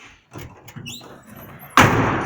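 The cab door of a 1952 Dodge B-3-F truck is swung shut inside a garage, closing with a single loud, solid slam after some quieter handling noises.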